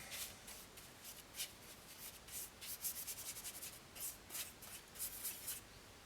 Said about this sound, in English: You can't do very much with power sanding except for the outside